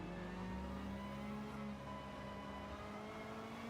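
A race car engine in the Gran Turismo video game pulls hard under acceleration, a steady, close droning whine that climbs slightly in pitch and plays on alone without talk.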